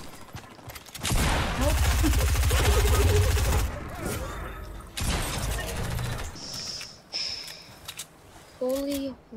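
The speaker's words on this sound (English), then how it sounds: "Oh, I'm getting shot at." Rapid gunfire in the video game Fortnite, a dense burst of shots for a few seconds followed by scattered shots and game noises, loud and close, with a player's voice calling out over it.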